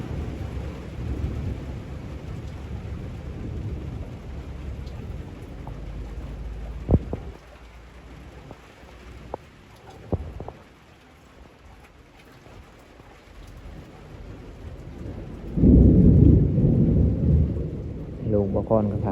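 A thunderstorm with rain: a steady patter and rumble is broken by several sharp thunder cracks, and a loud, close roll of thunder builds near the end.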